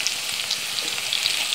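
Curry leaves frying in hot oil in a pan for spicy, tangy eggplant curry, a steady close sizzle with crackling pops throughout and no talk.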